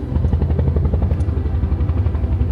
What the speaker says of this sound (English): I hear the helicopters coming